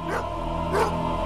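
Dogs bark and yip in short bursts, two of them standing out, over a steady, dense wash of background noise.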